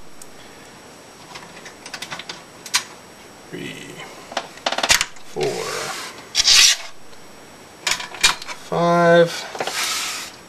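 Screws being driven back into a Nintendo NES console's case: short scraping, rasping turns repeat in uneven bursts, with a squeaky grinding twist near the end, close and clear, while a voice counts along.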